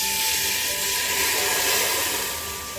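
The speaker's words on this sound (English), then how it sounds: "Use a filter or strainer and pour this on" Hot oil tempering for Kashmiri mutton rogan josh is poured through a strainer onto the meat, producing a loud, steady sizzling hiss that fills the whole moment without any talk.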